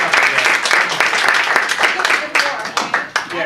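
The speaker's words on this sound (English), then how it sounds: "can we get a round of applause for Susan?" A room of people applauds for a speaker, close and loud clapping that thins out into scattered claps toward the end, with voices mixed in.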